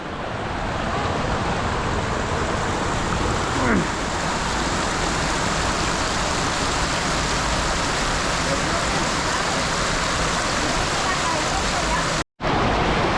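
A Colorado waterfall roars as a loud, continuous broadband rush close by, steady throughout with a brief dropout near the end.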